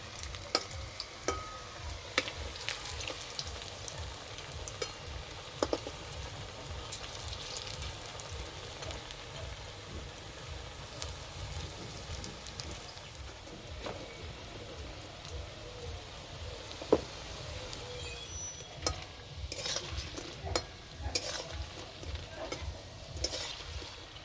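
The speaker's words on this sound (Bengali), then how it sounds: "এই পকোড়া ভাজতে বেশি সময় লাগে না" Spinach pakoras deep frying in hot oil over a stove on a cold day, a steady close sizzle and bubbling that runs without a break, with occasional stirring clinks and small pops.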